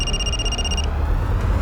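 A landline telephone trills with a rapid electronic ring for under a second, then cuts off abruptly, leaving a low background hum in a room.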